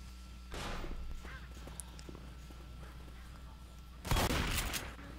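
In the zombie video game Left 4 Dead, gunfire rings out in two loud bursts of rapid shots, with quieter game sounds in between.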